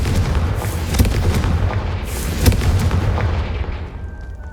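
Confringo spell blasts in the game Hogwarts Legacy, with deep booming explosions that overlap and rumble, a few sharp impacts standing out before the sound fades away.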